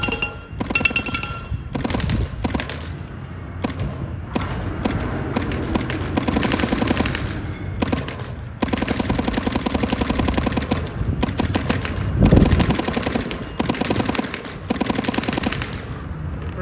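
A Planet Eclipse EGO LV1.6 paintball gun fires in long rapid bursts, sharp popping shots rattling in quick succession with brief gaps between strings, loud and close.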